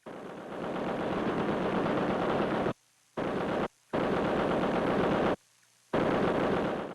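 A 50 caliber machine gun hammers out long sustained bursts, loud and close, broken by a few brief pauses before the heavy automatic fire resumes.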